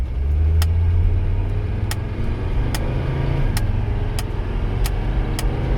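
A Mercedes 300CD with a long-abandoned diesel engine runs loud and steady close by, with a rough low drone and sharp periodic ticks over about six seconds and no talking.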